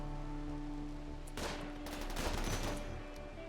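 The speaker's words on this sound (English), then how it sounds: "We're being fired on." Enemy gunfire in a rainy video game battle: a sudden loud burst of rapid shots breaks out over a steady wash of background noise and continues as dense, overlapping fire to the end.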